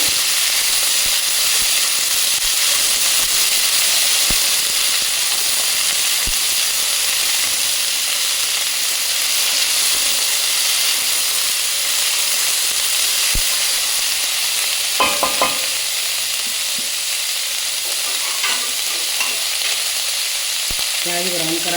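Thinly sliced onions fry in oil in a pan for a boneless chicken dish, giving a steady, loud sizzling hiss throughout, with a cluster of sharp spoon-stirring scrapes and clicks arriving near the end.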